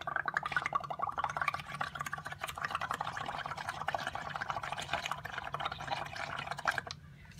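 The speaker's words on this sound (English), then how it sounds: "You have to kind of stick the straw straight down or the bubbles will not come up there." Air blown through a straw into a cup of liquid makes steady, close bubbling and gurgling that runs almost without a break for about seven seconds, then stops abruptly.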